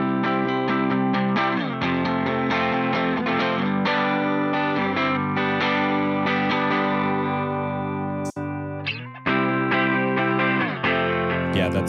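Distorted electric guitar chords played through a Strymon Iridium amp model with a York Matchless impulse response, loud and sustained, with a brief pick scrape and short break near the end before strumming resumes.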